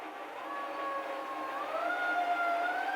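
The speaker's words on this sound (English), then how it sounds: "it's always sirens because you know it's a goddamn tri-state area" Emergency sirens wail on a New York City street, several overlapping tones rising and falling steadily over distant traffic, loud and continuous throughout.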